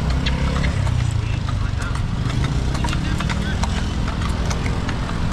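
A horse's hooves clip-clop on a road in the Philippines, a quick run of light, sharp taps under steady traffic and engine rumble, with people talking over it.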